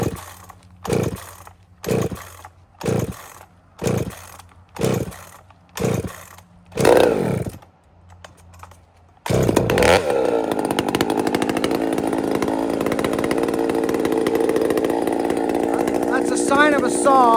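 A chainsaw that has long gone unused revs in a series of rhythmic bursts while bucking a big log, then settles into a steady, high idle.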